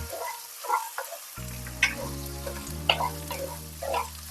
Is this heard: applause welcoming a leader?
no